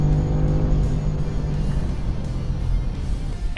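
A 2021 BMW M5 CS engine pulls hard toward redline, a loud steady droning roar heard from inside the car with no voices over it.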